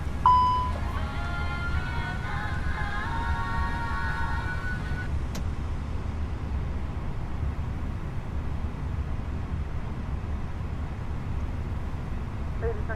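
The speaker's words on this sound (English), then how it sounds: "Starting engine 2." An airliner's second engine winds up during start in Microsoft Flight Simulator 2020, a low steady rumble and hiss under a brief series of cockpit tones and a faint voice early on.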